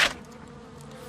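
Bees buzz steadily and close in the video game Sherlock Holmes: Crimes and Punishments, a soft continuous drone following a brief sharp click at the start.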